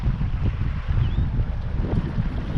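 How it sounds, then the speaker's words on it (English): Steady wind buffets the microphone while kayaking on the Swan River, a continuous low rumble of gusts with faint water noise beneath, no talking. "So, as you can see, it's a little bit windy."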